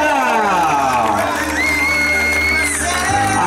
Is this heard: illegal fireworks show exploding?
no